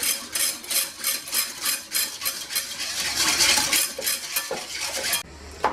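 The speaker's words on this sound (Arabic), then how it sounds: "غادي نخلط كلشي مزيان، وغادي نديرو فوق البوطة" A spoon scrapes and stirs a milk and orange pudding mixture in a pot, with steady rhythmic strokes against the metal, close and clear, and no talking.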